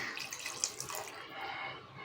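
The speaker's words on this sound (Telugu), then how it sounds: "ఇందులో వాటర్ పోసుకుందామండి ముక్క మునిగే అంతవరకు వాటర్ పోసుకుందాం" Water pours into a curry pot of taro root tamarind stew in a home kitchen, a steady close splashing stream lasting about two seconds before stopping abruptly.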